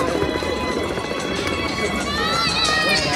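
A dense crowd of pilgrims at the Mahakumbh in Prayagraj, gathered near a bridge on the way to the Sangam, produces a steady, loud wash of overlapping voices and bustle that runs through the whole stretch.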